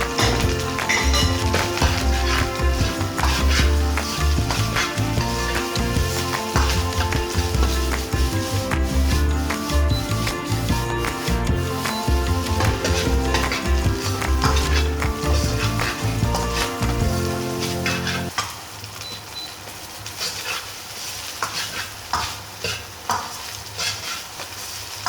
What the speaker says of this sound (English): then stir fry and toss it